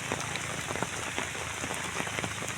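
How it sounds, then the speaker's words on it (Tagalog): Steady rain pours down during a river fishing trip in Binangonan, a dense continuous hiss of drops pattering on surfaces, fairly close and unbroken, with no voices. "Yan na, kung kailan pauwi, naabutan pa kami ng ulan."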